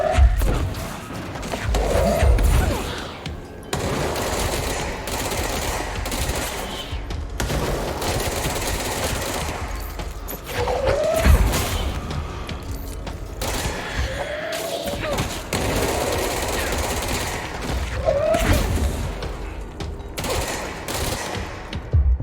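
In the video game Control, bursts of rapid gunfire and heavy thuds from exploding enemies come repeatedly over a dense, chaotic combat soundscape.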